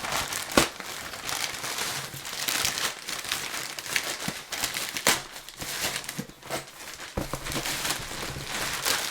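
Plastic packaging crinkles and rustles steadily as NHL jersey mystery boxes are pulled from a bag, with sharp crackling bursts and tearing sounds throughout, close and fairly loud with no talking.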